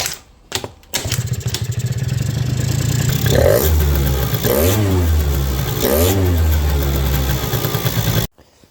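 A Yamaha Slider scooter moped starts up and runs, its small engine idling loudly and close with several throttle blips that rise and fall, then cuts off abruptly near the end.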